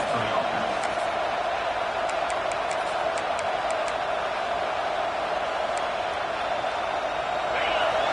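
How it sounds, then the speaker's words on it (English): A large crowd roars steadily throughout, a dense wall of cheering with a few sharp whistles cutting through. "This crowd bringing the energy and noise early."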